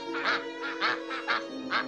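Ducks quack in a children's Ugly Duckling story, a rapid run of about five nasal honking quacks in a rhythmic sequence over a steady tonal bed, close and clear.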